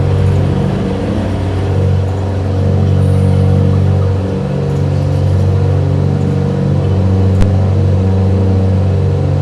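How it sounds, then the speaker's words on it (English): Steady droning hum from a running air conditioner, with the aircraft engines of a simulated Beechcraft Baron 58 flight blended in, loud and continuous throughout with no talking. "Sorry about the air conditioner."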